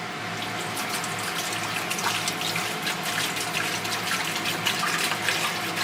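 Distilled water pours steadily from a container into a beaker holding four pieces of copper, a continuous close splashing and gurgling stream that runs unbroken at a moderate, even level for several seconds.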